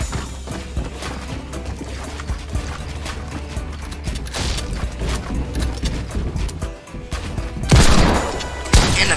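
Rapid automatic gunfire from a drum gun in the game Fortnite rattles densely through the whole stretch amid other game effects and crashes, loud and busy, with louder impacts near the end and no talk.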